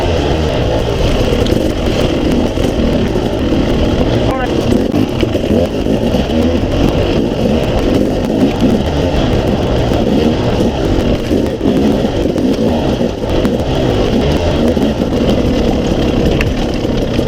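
A KTM 300 XC-W two-stroke dirt bike being ridden on a rocky trail circuit gives a steady, loud, close engine drone that holds without pause, with no talk over it.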